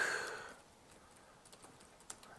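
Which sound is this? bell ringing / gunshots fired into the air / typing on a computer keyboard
typing on a computer keyboard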